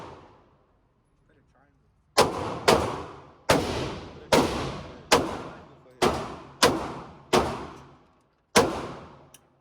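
Gunshots at an outdoor shooting range: about nine loud, sharp reports fired one by one at uneven intervals, each with a short ringing decay, after a quiet opening.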